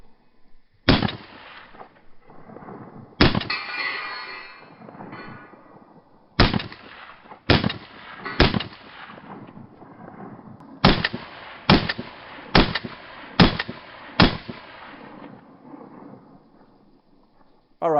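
Springfield Armory Echelon polymer striker-fired pistol fired in about ten loud, sharp, close shots, spaced irregularly with short echoing tails and quiet gaps between them.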